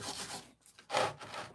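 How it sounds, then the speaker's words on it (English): Sandpaper is rubbed over a Morgan silver dollar coin ring, smoothing the band round; two short rasping strokes sound close and alone, separated by a brief pause. "all I'm doing is taking this sandpaper and sanding that area nice and round"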